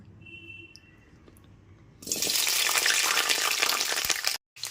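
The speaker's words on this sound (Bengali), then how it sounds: "হালকা করে ভেজে নেব পর এতে দিয়ে দিচ্ছি একটা কেটে রাখা আলু" Cubed pumpkin and potato hit hot oil in a pan over a low gas flame, setting off a sudden, steady sizzle after a quiet stretch, broken by a brief pause near the end.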